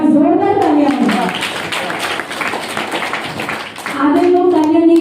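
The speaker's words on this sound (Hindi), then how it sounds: "एक बार जोरदार तालियां बजाओ।" Audience clapping at an RCM Business seminar in Kota, Rajasthan: a few seconds of dense clapping in the middle, with a voice speaking before and after it.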